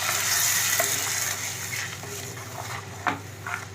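A dissolved mixture poured into sautéed onions in a pan for Tamil garlic kuzhambu, giving a steady loud sizzle and frying hiss throughout with a couple of brief stirring clinks near the end.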